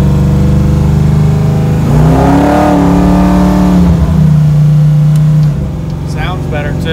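Camaro engine with a newly installed Gear Vendors overdrive revving loudly nearby, a rising and falling roar that holds a steady drone before dropping off, with people talking over it.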